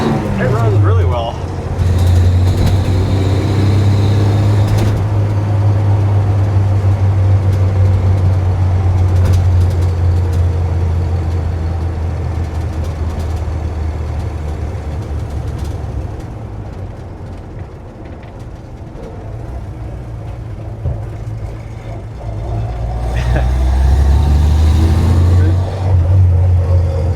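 A 1952 Chevrolet pickup truck with a three-speed gearbox idles steadily up close, a deep constant engine drone running the whole time with a brief dip midway, while people talk over it.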